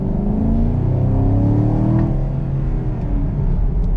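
Chevrolet Camaro SS with a large-displacement naturally aspirated V8 producing a steady, loud rumbling drone, its pitch rising as the car accelerates, heard from inside without any talk.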